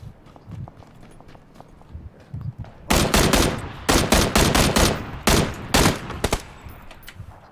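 Bursts of gunfire in PUBG (PlayerUnknown's Battlegrounds), loud and close, arriving in several rapid clusters of shots over a few seconds after a quieter stretch of faint game ambience.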